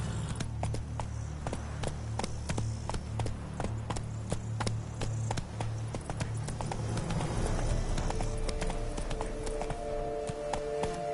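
Roach, Geralt's horse in The Witcher 3: Wild Hunt, clopping steadily in a regular trot, hooves sharp and close over a low background drone.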